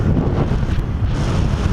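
Strong wind gusting over a cliff-top launch spot, buffeting the microphone with a steady low roar and rumble throughout, loud and close with no let-up.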